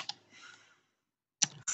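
Faint, sparse keyboard taps on a computer during a Kali Linux information-gathering session: a few quiet clicks, a short pause, then a couple more keystrokes, close and soft with no talking.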